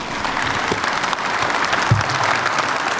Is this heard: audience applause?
yes